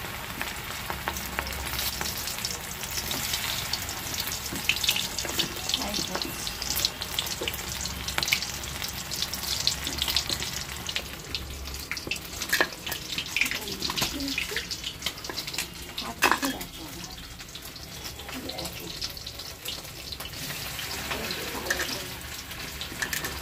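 Hot oil crackles and sizzles steadily, with a faint tap-like wash running beneath it and some low rumble in the opening seconds; no voices are heard.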